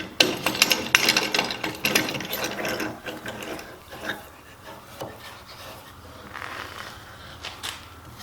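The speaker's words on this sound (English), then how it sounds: "then I'm going to put a regular washer on and tighten this up" A bolt with a washer tightened on a carver's arm, rapid close ratcheting clicks for about three seconds, then slower scattered turns and scrapes, with no talking.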